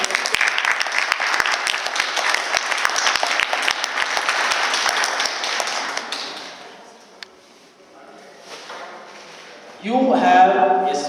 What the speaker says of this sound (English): Can I have a much bigger applause?